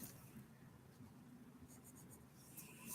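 A pen or pencil scratches across paper, writing out a math solution by hand in a quiet room, with soft continuous strokes and a few quicker marks toward the end.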